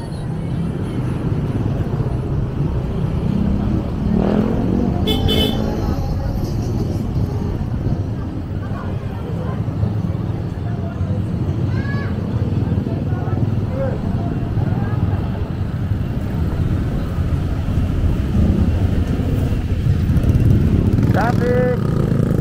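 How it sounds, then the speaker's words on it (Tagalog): Rush hour road traffic with cars and motorcycles streams past in San Narciso, Zambales, a steady loud rumble of engines with occasional horn-like tones, while a person talks over it throughout. "Pag ganitong oras, rush hour na kasi"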